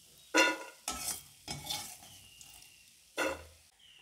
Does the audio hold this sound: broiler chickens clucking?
no